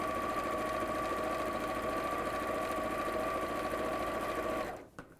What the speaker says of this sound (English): sewing at a bit of an awkward angle